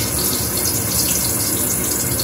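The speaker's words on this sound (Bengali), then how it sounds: "চলো গরম গরম বেগুনটা ভেজে দিয়ে" Eggplant slices frying in hot oil give a dense, continuous hissing sizzle, loud and close, with no breaks.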